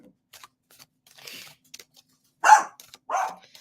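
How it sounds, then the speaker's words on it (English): A dog barks a couple of times nearby, two loud sharp barks after a few faint earlier sounds in a quiet indoor room. "There goes my dog."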